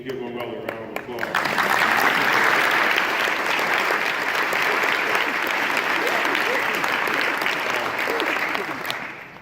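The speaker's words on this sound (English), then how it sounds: "So can you give my mother a round of applause?" An audience breaks into sustained applause at a Tennessee Hall of Fame induction ceremony, swelling quickly after a brief spoken lead-in and holding as a dense, loud wash of clapping that fades slightly near the end.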